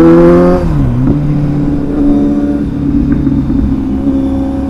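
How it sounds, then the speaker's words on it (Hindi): Superbike engine gives one sharp rev that falls away at the start, then settles into a loud, steady, rumbling idle close by. "आवाज़ इतनी तेज है इसकी, काफ़ी ज़्यादा लाउड है।"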